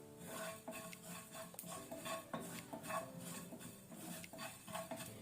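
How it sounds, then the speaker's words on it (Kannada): Cumin and fenugreek seeds dry-roasting in a pan without oil, stirred with a metal spoon that scrapes and clinks steadily against the pan, close by, with only a faint sizzle beneath. "ಜೀರಾ ಸೀಡ್ಸ್ ಮತ್ತೆ ಮೇಥಿ ಸೀಡ್ಸ್ ಮೆಂತೆ ಇದನ್ನು ಸ್ವಲ್ಪ ನಾವು ಫ್ರೈ ಮಾಡ್ಕೊಳ್ಳುವ ಲೈಟ್ ಕೆಂಪಾಗೋ ತನಕ."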